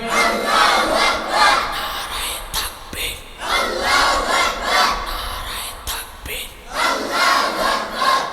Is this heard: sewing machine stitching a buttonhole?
no